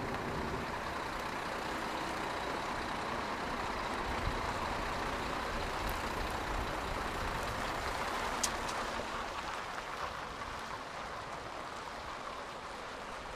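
A lorry rumbles steadily around a tight turning circle on a test track, its broadband engine and tyre noise holding at a constant level throughout with no talk.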